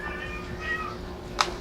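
A cat meows in a couple of drawn-out, tonal calls, fairly close, followed by a brief sharp sound near the end with no talking.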